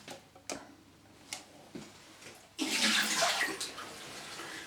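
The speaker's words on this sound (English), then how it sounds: "push in there and ladle the water out." Water being scooped out of a close-coupled toilet cistern with a container: a few sharp knocks and drips, then a louder splashing, sloshing rush of water that continues close by.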